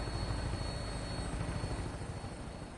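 Aircraft in the Fallout 76 video game, flying like a Chinook helicopter: a dense, steady rotor-and-engine roar with low throbbing, loud and continuous throughout.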